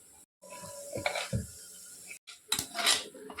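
Fried tempering tipped from a small pan into a pot of mashed red amaranth greens and dal, giving a few close metallic clanks and scrapes with a brief sizzling hiss, no talk.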